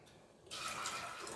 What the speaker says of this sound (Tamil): கொஞ்சமாக தண்ணி விட்டுருக்கேன்.